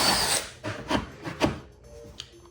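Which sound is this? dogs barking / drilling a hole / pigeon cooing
drilling a hole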